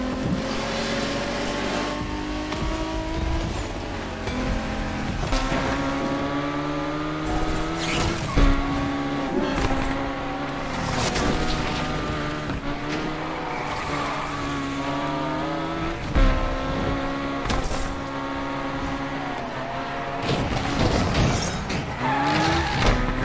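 Japanese drift cars racing in The Crew Motorfest, engines revving up and down through gear changes while tires squeal and skid in repeated long slides, loud and close the whole time.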